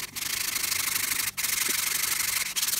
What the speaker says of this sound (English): I did take then a 220 to it also to smooth it out